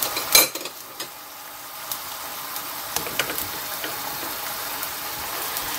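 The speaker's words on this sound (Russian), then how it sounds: "Зажарочка пускай жарится." Vegetable zazharka for borscht frying in a pan, a soft steady sizzle with occasional clinks and scrapes of a utensil stirring, close by and quiet, with no talking.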